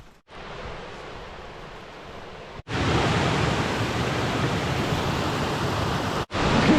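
A waterfall in Michigan in October sends out a steady, broad rush of falling water. It grows louder and fuller partway through and stays constant, with no voices.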